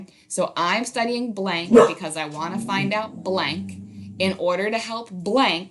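Dogs bark in the background at home during a virtual lesson, their yips partly buried under steady talking in the foreground.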